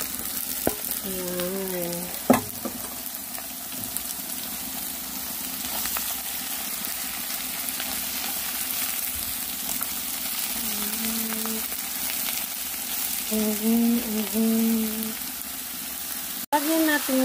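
Sliced mushrooms go into a pan with beef and fry in a soft, continuous sizzle, with a few clattering stirs and a sharp clack near the end; a voice speaks briefly over it.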